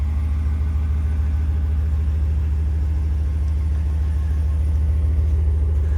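A deep, steady Ram 1500 Hemi V8 engine rumble idles close by, low and throaty, holding a constant level throughout with no voices.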